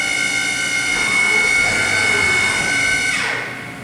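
A Haas VF-2YT vertical machining center spindle spins at 3,500 rpm, giving a loud, steady high-pitched whine with a layer of mechanical hum, held evenly before winding down near the end.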